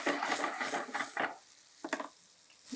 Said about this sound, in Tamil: இப்போது நல்லா மிக்ஸ் பண்ணிட்டு